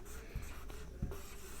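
Someone writes a word on a board during a Class 10 physics lesson, producing a faint, steady scratching with two soft taps, close and quiet, with no voice.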